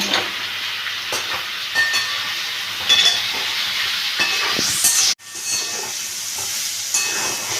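Kochur gathi (taro) being stirred with salt and ginger paste in a hot pan: steady, close sizzling and frying hiss with scraping stirring strokes throughout, a brief sharp dropout near the end, and no talking.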